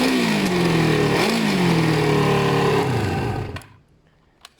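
A BMW F650 Funduro motorcycle engine runs close by with a steady, throbbing single-cylinder idle and slight pitch wobbles, then cuts off abruptly into quiet with a couple of faint knocks.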